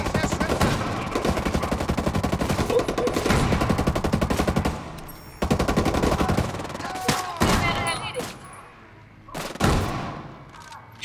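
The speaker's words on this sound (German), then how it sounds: "Team, Feuer frei." Rapid automatic gunfire from a team firing in a military video game rattles on loudly in dense bursts, pausing briefly, then resuming with scattered shots and some fainter talk between volleys.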